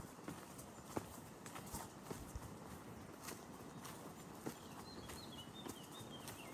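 A trusted horse ridden on a springtime trail gives a steady clip-clop of hooves, close and rhythmic, with faint birdsong around and no talking.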